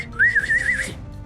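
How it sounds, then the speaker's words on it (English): A single person whistles a short wavering, warbling tune, loud and close, lasting under a second with no talking. "as I start whistling"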